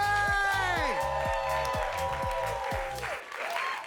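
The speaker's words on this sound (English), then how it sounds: "Please give a really big round of applause for Deven Bouchet!" Audience applause and cheering for comedian Deven Bouchet at a comedy show, loud and sustained, with cheering voices and a shouting host's voice over the clapping, easing toward the end.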